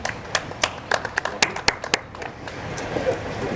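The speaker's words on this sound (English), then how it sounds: "politicians not always used to getting rounds of applause" A small audience at a Dublin civic tribute event gives a brief, sparse round of applause, individual hand claps distinct and fairly close, thinning out after a couple of seconds.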